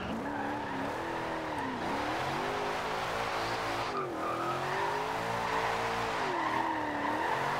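A Shelby Cobra 427 drifting in Forza Horizon 2, its engine holding a steady loud drone that dips and rises with throttle while tires squeal continuously through the slide.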